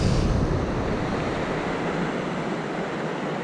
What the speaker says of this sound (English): the waves are pretty intense